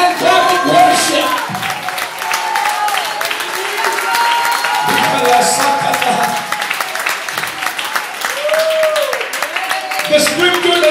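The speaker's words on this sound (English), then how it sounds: "Can we give a hand clap of worship?" Congregation clapping hands in worship at a church service, steady clapping running throughout beneath a voice and music, fairly loud and close.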